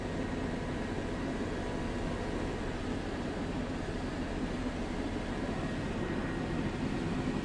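A news helicopter flies over Oklahoma City, giving a steady, even drone with a constant rotor and engine hum. It is moderately faint and unchanging throughout, with no talk.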